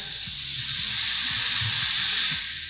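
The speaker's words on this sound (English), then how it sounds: "create that little bit of steam just to cloche it" Water splashed into a hot pan for steam to melt cheese sends up a loud, broad sizzling hiss that swells and then eases slightly over a few seconds, with faint low bubbling beneath.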